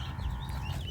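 Brief burst of small native chicken chicks peeping and clucking together, high chirps layered over a low background hum.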